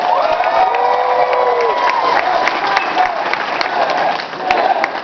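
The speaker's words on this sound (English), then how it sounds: "Ladies and gentlemen, let's get loud for Daniel Bryan!" Convention crowd at a Daniel Bryan Q&A applauding and cheering loudly and steadily, with whoops and shouts rising over sustained clapping throughout.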